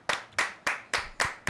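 Five evenly spaced hand claps, crisp and close, each followed by a short decay.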